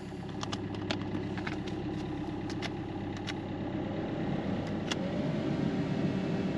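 A cheap, well-worn Fiat Panda engine idles steadily with a constant mid-range hum and faint cabin fan whir, no voices over it.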